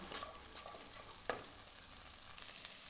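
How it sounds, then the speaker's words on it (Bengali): Spices sautéing with a spoonful of boiled moong dal in a pan, a soft steady sizzle with faint stirring scrapes and a few light clicks, quiet and close. "এবার এটাকে ভালোভাবে কষিয়ে নেব।"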